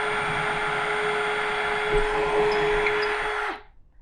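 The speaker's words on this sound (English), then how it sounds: "Now I'm going to drill another hole." A power drill bores a hole with a steady, loud whine for about three and a half seconds, then cuts off abruptly and spins down into silence.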